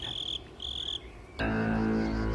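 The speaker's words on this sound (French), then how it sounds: "La sauterelle, cruelle." A grasshopper chirps in short, high, buzzing bursts, two pulses separated by a pause, before a louder musical sound takes over.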